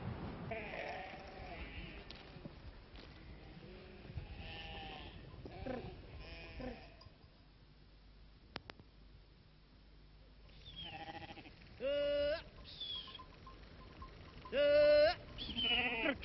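Goats bleating at a milking in the Corte area of Corsica, several sharp wavering cries near the end, one loud and close, following quieter farmyard sounds with someone talking earlier.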